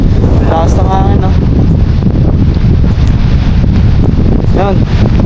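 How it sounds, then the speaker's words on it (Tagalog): Strong wind roars steadily into the microphone, a constant loud buffeting with voices talking over it. "Lakas ng hangin"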